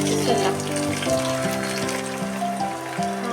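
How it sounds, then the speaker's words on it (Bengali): Egg sizzling as it drops into hot oil beside frying onions in a pan, a steady hissing crackle that runs continuously and fairly loud, with faint harmonic tones over it. "এখন আমি এটাকে এক সাইড করে ডিমটা ছেড়ে দিলাম"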